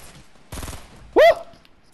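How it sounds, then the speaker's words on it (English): A short burst of AK rifle fire in an online shooter game, a quick rattling volley of rounds followed by a sharp brighter shot-like crack, close and loud in an otherwise quiet moment. "The power of the green AK, I tell ya."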